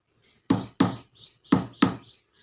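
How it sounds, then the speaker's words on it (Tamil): Four sharp knocks on a house door come in two pairs, loud and close, with faint softer thuds between them. "நம்ம வீட்டு கதவு யாரோ தட்டுற மாதிரி தெரியுது"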